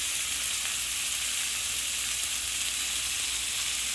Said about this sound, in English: So I'm gonna continue to grill these,